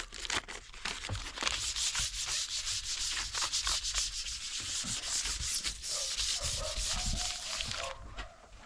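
A rag wipes brake cleaner across a van's metal body in quick, rough back-and-forth rubbing strokes, loud and close, ending briefly near the close.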